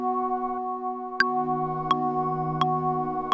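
A low synth pad layered with a Flow Motion patch sustains evenly as one steady chord, with a few sharp percussive ticks at regular intervals over the top.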